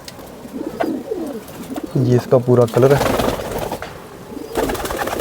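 Pigeons coo nearby in a low, throaty rolling series, a clear burst of repeated coos in the middle, while someone talks over them.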